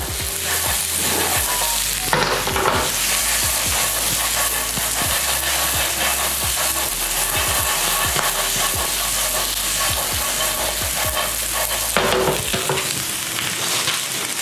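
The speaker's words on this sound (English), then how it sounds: "The spinach we're not cooking, we're just tossing through, and our pasta is already hot." Fresh spinach is tossed through hot browned-butter gnocchi in a pan. A loud, steady sizzle runs throughout, broken by repeated scraping strokes of the stirring utensil.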